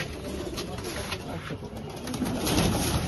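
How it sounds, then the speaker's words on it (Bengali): Pigeons cooing at a home loft, soft low throaty coos repeating under steady background noise, fairly close and faint. "এই পায়রাটা খুব ভালো পায়রা।"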